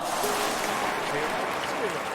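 A crowd at a sporting event in the London 2012 video game applauds in a dense, steady wash of clapping with a commentator talking over it.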